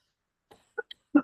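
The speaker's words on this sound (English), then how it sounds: "I'm just going to have a little cough." A few small, separate coughs, close and dry, with short pauses between them and a stronger final one.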